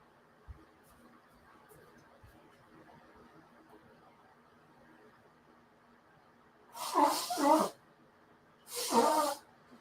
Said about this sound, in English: Blow my nose properly this time.